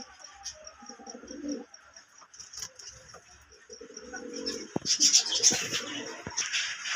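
Domestic pigeons kept in coops at a house in Shantipur coo softly in low bursts, mixed with faint chirps and a few sharp knocks, the cooing growing busier near the end.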